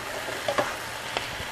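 Cut squash and orange bell pepper frying in a pan over medium-high heat, a quiet steady sizzle with a few soft clinks and stirring taps, close and alone.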